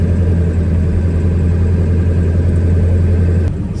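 A 7.3 Powerstroke diesel engine idles steadily after an injector install, a loud, even low rumble and whir heard close up without pause, settling slightly lower at the end.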